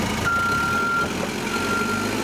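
Reversing beeps from a dump truck hauling storm debris during a cleanup on Lucian Wood Road in Cedarville: a steady, fairly loud electronic tone holds for almost a second, then returns fainter over low engine rumble and site noise.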